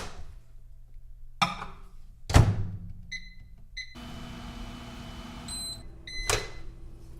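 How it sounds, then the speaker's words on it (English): A microwave oven cooking potatoes, with a few short electronic beeps, a steady running hum, then more beeps near the end, alongside some kitchen clatter. "potatoes cooked in the microwave"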